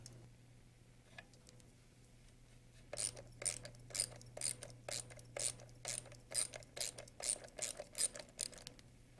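A ratchet wrench backs out the fuel rail retention bolts on a Rotorway helicopter engine, a quiet hum first, then a rapid run of sharp, close clicking bursts in uneven strokes, with no talk.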